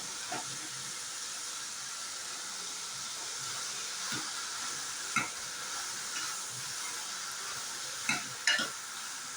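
Masala, onion and tomato sautéing in an open pressure cooker for ridge gourd kuzhambu, a soft continuous sizzle broken by a few sharp ladle scrapes and clinks against the metal.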